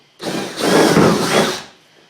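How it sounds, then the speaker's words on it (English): A power drill whirs up sharply, bores a hole through a kayak for about a second and a half, then winds down, loud and close. "We're going to drill one hole."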